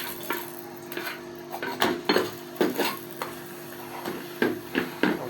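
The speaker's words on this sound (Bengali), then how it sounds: "আমরা ভেজে নিচ্ছি পরোটাটা।" Paratha frying on a tawa: a faint steady sizzle under repeated scraping and clinking of a metal spatula against the pan, coming in irregular bursts close by.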